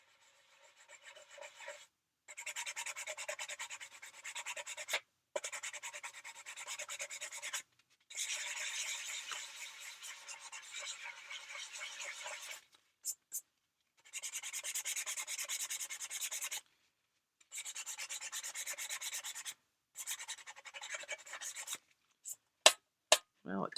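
Scraping paint off a polymer clay tin: repeated bursts of dry, gritty rubbing strokes, each lasting a few seconds and separated by short pauses, close and fairly quiet, ending in a few sharp taps.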